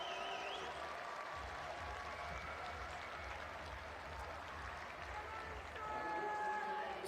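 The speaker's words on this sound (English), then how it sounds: "And the crowd responding to the energy he's giving to the competition" A stadium crowd at an athletics meet in Jerusalem keeps up steady applause and cheering throughout, a broad sustained roar that swells slightly near the end, with a commentator talking over it.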